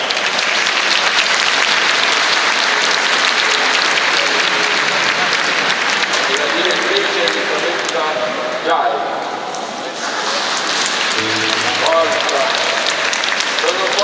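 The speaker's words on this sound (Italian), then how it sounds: "un applauso professore" Audience applause for a professor at a school festival concert in Assisi, a full, loud, sustained wash of clapping that dips briefly near the end before picking back up, with faint voices underneath.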